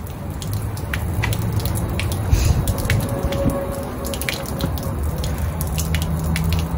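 Steady trickling and dripping water drains through a drain bowl in a vehicle parked in a lot, with a continuous splashy wash and scattered bright drips throughout, fairly close and uninterrupted.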